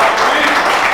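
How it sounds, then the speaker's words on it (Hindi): An audience at a meet-and-greet interview event applauds in a dense, steady wash of clapping, heard only briefly. "जोरदार तालियां"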